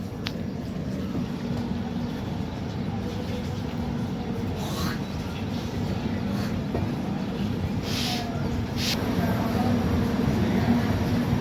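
Dikshabhumi Express rolling out of Sangola station, a steady low rumble of the moving train with a few faint higher clicks, continuous and even.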